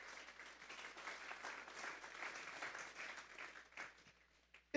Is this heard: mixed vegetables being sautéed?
no